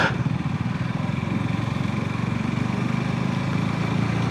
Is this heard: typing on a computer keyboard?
no